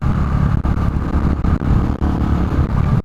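A KTM RC390 motorcycle being ridden, its single-cylinder engine droning steadily and loudly up close with a few brief dips in power, under wind noise.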